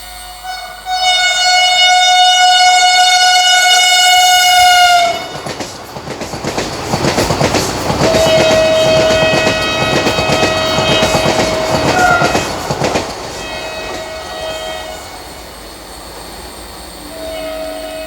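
Near Padma railway station in Jharkhand, a train horn blares loudly for several seconds. The Patna–Ranchi Vande Bharat Express then rushes past in a long, heavy roar of wheels and rattling carriages, with a briefer horn note midway before the noise fades.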